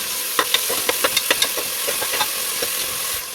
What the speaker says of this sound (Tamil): லேசாக அரைச்சி வச்சுருக்க இந்த வெங்காயத்தை இதில் சேர்த்துருவோம் இதையும் நல்லா இதில் வதக்கிடுவோம்